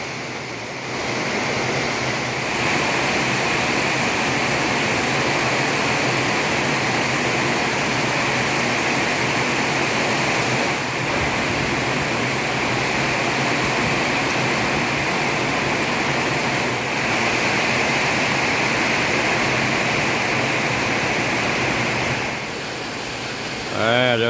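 Heavy rain pouring onto house roofs in a suburban area near Thakhek, Laos, a dense, loud, unbroken hiss lasting the whole stretch.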